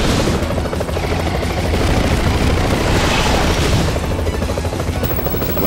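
Missiles explode one after another in the side-scrolling brawler Double Dragon Neon, a loud, continuous roar of booms and rumbling blasts that stays dense and heavy without letup and with no voices.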